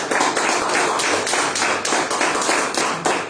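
A standing church congregation claps loudly and rhythmically in unison, a close, steady run of sharp claps with a regular beat and no talking.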